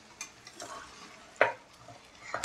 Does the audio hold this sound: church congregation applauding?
no